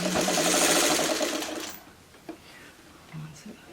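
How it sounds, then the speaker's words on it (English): A sewing machine stitches the last side pieces onto a friendship star quilt in one close, steady run that stops abruptly, followed by faint rustling. "So now I'm sewing on the last side pieces."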